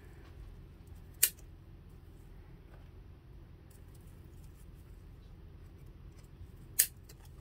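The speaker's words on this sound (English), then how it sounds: "I'm using wire cutters." Wire cutters snip through the stems of an artificial spring floral arrangement. Two sharp, brief clicks land several seconds apart over a quiet, faint room background, with no talk.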